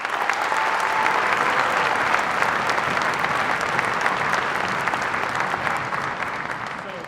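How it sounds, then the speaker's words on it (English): Audience applause at a high school spring band concert, sustained dense clapping from a large crowd that holds steady for several seconds, then slowly tapers toward the end. "Give him a round of applause."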